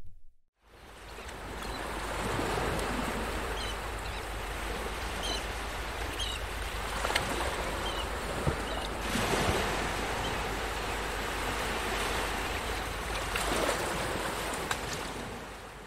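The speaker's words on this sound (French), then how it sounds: "Ils se retrouvent chaque jour au bord de l'eau pour jouer et danser sur le bruit des vagues." Sea waves wash onto a beach in a constant broad roar, with gentle swells rising and falling, heard alone and fairly close.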